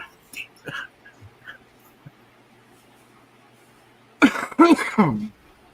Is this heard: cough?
yes